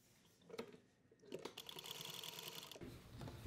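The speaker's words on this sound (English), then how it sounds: "Now we'll be sewing to this edge" A sewing machine stitches along a bias-cut fabric edge for churidar pants, starting with a few separate clicks and taps before settling into a steady close mechanical whir, then a brief stop and restart.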